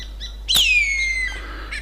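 Birds calling in open Tanami outback country in the Northern Territory: a loud, clear whistled call sliding downward, with softer chirps before and after, heard alone without talk.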